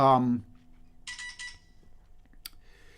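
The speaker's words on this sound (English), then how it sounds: "I just got a text, and that means that I didn't mute my phone." A phone's text message notification on a live online concert stream chimes as a short bright tone pattern just after a brief spoken word, followed by a faint click and a short high beep in a quiet room.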